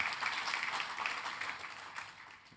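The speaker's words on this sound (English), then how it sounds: "Let's give you all a big round of applause." Keynote audience at the Chainguard Assemble conference applauding, a steady wash of many hands clapping at moderate level for the whole stretch, fairly distant and diffuse.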